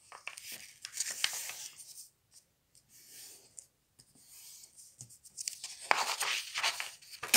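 A sheet of paper is folded in half for a bunny bookmark, giving soft close rustles and crinkles in short bursts separated by quiet pauses.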